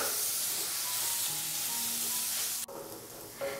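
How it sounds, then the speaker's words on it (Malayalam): Onions sizzle steadily in a pan over a medium-high flame while a spoon stirs them, with a sharp break near the end and frying continuing close and alone. "കൈ എടുക്കാതെ ഒന്ന് ഇളക്കി കൊടുക്കുകയാണെന്നുണ്ടെങ്കിൽ അടിക്കൊന്നും പിടിക്കാതെ നമുക്ക് കിട്ടിക്കോളും"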